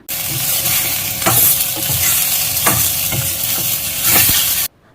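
Chopped tomatoes fry in a pan of well-roasted spiced masala for chicken gravy, giving a loud, steady sizzle broken by repeated scraping stir strokes, close up and with no voices.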